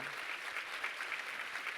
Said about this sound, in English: We're going to go ahead and clap that up and cheer for them